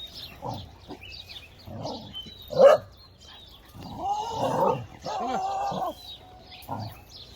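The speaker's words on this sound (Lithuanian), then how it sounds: "Atbėgo šunis, matomai dėl maisto ar dėl ko jie čia jau pykstasi." Local dogs in the Madhuvan forest bark and snarl at each other in short, rough bursts close to the microphone. Between the outbursts there are brief pauses and a sharp yelp near the middle.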